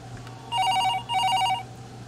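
Telephone ringing in Evil Nun, a horror video game: two bright electronic ring bursts about half a second each with a short pause between, clear and steady over a low background hum.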